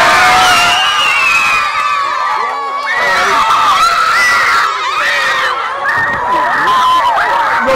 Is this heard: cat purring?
no